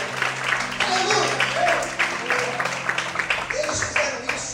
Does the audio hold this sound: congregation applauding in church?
yes